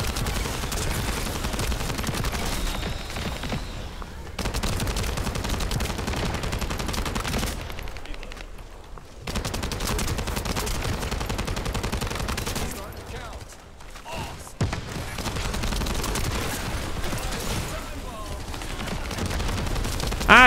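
Rapid automatic gunfire and small explosions from the shooter game The First Descendant rattle in long, dense bursts broken by brief pauses, loud and continuous across the stretch.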